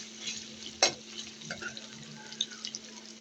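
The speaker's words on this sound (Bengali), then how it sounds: "আমি এখন পেঁয়াজ আর রসুনটা ভেজে নেব।" Onion and garlic fry in a pan with a soft, faint sizzle, broken by a sharp clack of a utensil and a few light scrapes, close and quiet, with no voices.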